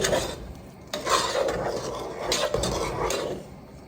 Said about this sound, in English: you stir this and I'll look. Don't stop stirring, it'll burn.